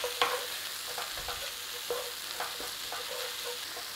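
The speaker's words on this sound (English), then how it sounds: "A little bit of pepper, not much. Stir fry." Leek with thyme, salt and pepper stir-fried in a pan: a steady close sizzle with scattered scrapes and taps of a utensil stirring, no talk.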